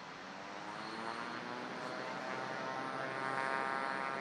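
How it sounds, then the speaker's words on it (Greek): A two-seat T-6 trainer aircraft takes off during a military parade in Greece, its engine a steady, loud broadband roar that builds slightly and holds throughout, with no voices. "Αρχίζει η απογείωση των TAF-6."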